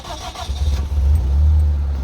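A Daihatsu Perodua Kembara 1600cc 4x4 with automatic transmission turns over and catches, then settles into a low, steady idle rumble, close and fairly loud.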